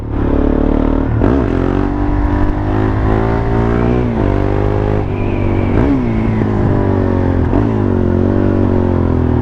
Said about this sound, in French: Voici donc la KTM Duke R 690